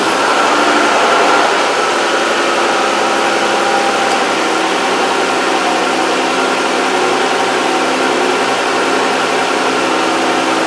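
A 2011–2018 Chrysler 300 engine runs at a steady, loud idle right after an oil change, a continuous mechanical hum with no talking.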